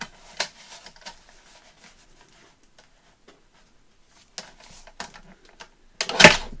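Paper being cut for a junk journal: sparse, faint snips and rustles across a mostly quiet stretch, ending in one louder, sharp burst of cutting.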